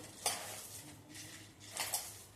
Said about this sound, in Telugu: ఇలా బాగా తిప్పితే అంతా మొత్తం కలుపుతుంది